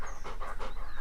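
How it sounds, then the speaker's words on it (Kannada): A pet dog pants quickly and steadily close by, a rapid rhythmic huffing of breaths with no talking over it. "ಅದು ನಮ್ಮ ನಾಯಿ, ಬೆಳಗ್ಗೆಯಿಂದ ಕಾಣಿಸ್ತಿಲ್ಲ ಅಂತ"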